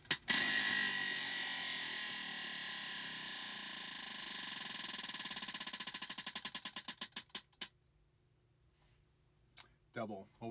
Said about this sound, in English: let's go ahead and spin for the third stitch.